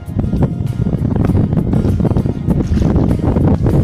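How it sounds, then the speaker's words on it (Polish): Strong wind buffeting a microphone outdoors on a beach in Gdynia, a loud continuous rumbling roar with gusty pulses and no talk. "Trochę wieje"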